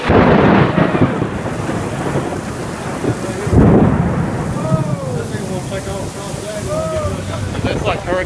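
Thunder rumbles loudly through a severe storm in Jena, Louisiana, with heavy rain and strong wind buffeting the microphone, a sharp crack near the middle, and excited voices calling out over the roar.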